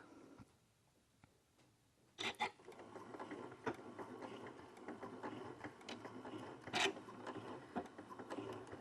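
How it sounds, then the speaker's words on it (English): A sewing machine back-stitches fabric for doll shoes, starting after a quiet pause and then running in a steady, rapid mechanical patter with a few louder clicks, close and fairly soft. "I'm going to go ahead and back stitch a few."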